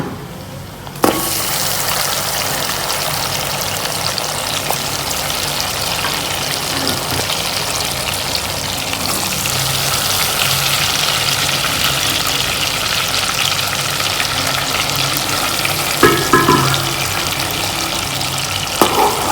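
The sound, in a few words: mutton frying in ghee with khoya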